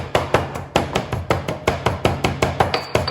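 Rosemary being ground with salt by hand, a steady series of sharp, evenly spaced crunching strikes, close and fairly loud with no talking.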